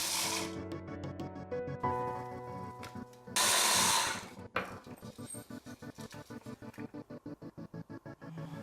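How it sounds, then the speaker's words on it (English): A loud blender whirs in bursts, with its motor pulsing and rattling as pistachios and vanilla are churned, then settles into a steady, rhythmic chopping whir. "Add vanilla to the pistachios in the same way and mix in the blender."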